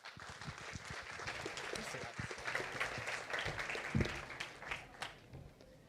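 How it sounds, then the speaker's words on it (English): Conference audience applauding a speaker at an AI Day talk, dense sustained clapping from a crowd filling the room, fairly even throughout with a slight swell midway. "Give him a round of applause."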